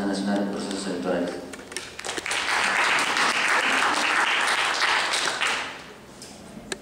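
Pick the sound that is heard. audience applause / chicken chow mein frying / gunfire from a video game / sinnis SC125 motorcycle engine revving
audience applause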